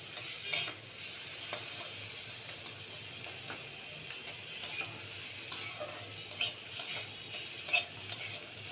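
Chopped tomato sizzles and fries in hot oil in a pan while being stirred for Hyderabadi paneer, with a steady sizzle and intermittent scraping clinks of the spoon.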